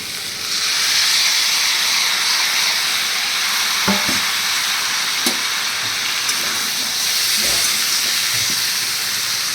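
Spice paste sizzling and frying in hot oil in a pan, a steady broadband hiss with a few brief clinks of utensils against the pan.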